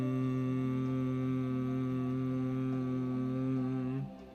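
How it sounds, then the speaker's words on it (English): A person hums steadily with the mouth closed during Bhramari breathing, a sustained close, even drone lasting about four seconds before stopping abruptly. "it's going to come out with my mouth closed, but with a hum sound like this"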